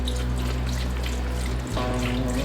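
Water is poured into a pot for green beans with smoked ham hocks and potatoes, a steady close trickle that shifts in pitch partway through.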